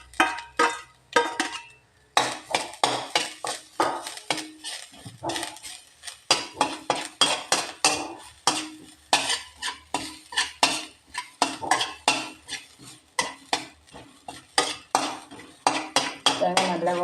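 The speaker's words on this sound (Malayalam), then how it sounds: "അതിനകത്തിൽ തേങ്ങ വറുക്കാൻ പോകുന്നത്." Grated coconut roasts in a metal pan for papaya erissery while a spoon scrapes and stirs in a steady rhythm of sharp clinks and scrapes, repeating close and loud for the whole stretch over a faint dry frying rustle.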